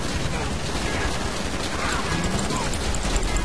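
Rapid gunfire from the video game GTA Online rattles on without a break, loud and dense through the whole stretch, with voices talking underneath.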